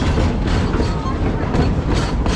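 Busch Gardens Tampa StanleyVille railroad train running along its track, a steady loud rumble with faint rhythmic clatter throughout, close and continuous.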